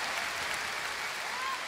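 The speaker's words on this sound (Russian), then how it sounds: "Аплодисменты!" A concert audience applauds the performer on stage, a continuous dense wash of clapping that stays even and moderately loud through the short clip.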